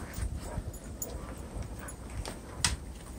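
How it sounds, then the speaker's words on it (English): Several adoptable dogs play together in a pack, with soft whimpers, scuffling and a few sharp yips scattered through steady rustling, close by and moderately quiet. "So just a bunch of dogs."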